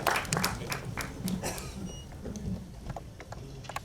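Audience applause welcoming a guest at a film song launch: steady mid-level clapping from a crowd, fairly close and continuous throughout, with a faint murmur beneath.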